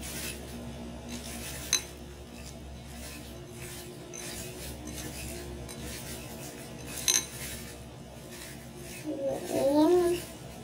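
A spoon stirring tabbouleh with chopped tomato in a bowl, giving soft scraping and occasional light clinks, fairly faint, with a brief louder scrape near the end.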